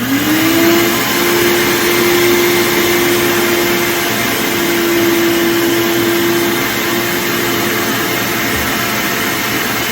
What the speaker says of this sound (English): so I'm going to start out with turning the shop vac on